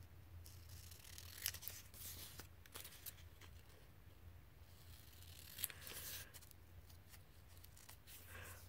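Scissors cutting paper off an envelope journal, a few faint crisp snips and rustles close by against a quiet room hum, with no talk.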